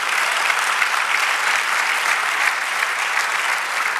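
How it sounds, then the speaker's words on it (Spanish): A church congregation at a Spanish-language service bursts into steady, dense applause that carries on evenly for several seconds with no talking. "Dele aplauso y celebre."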